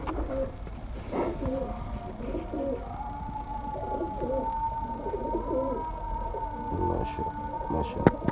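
A large Sialkoti pigeon coos close by in soft, repeated rolling phrases, its low throaty calls recurring over a quiet outdoor background.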